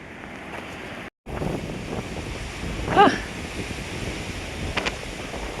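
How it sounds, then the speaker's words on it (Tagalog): Strong wind roars and buffets the microphone steadily, with one brief dropout and gusty swells throughout. "pakinggan nyo hangin lakas."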